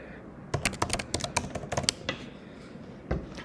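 Fingers type a quick, irregular burst of clicks on a computer keyboard, then pause, with one last isolated keystroke near the end.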